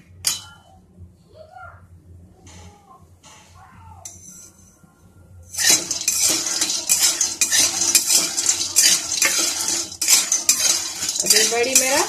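Moong dal badi roasting in a pan, with quiet scrapes and clinks at first, then a loud, busy stretch of metal spoon stirring and scraping against the pan with a dry crackle.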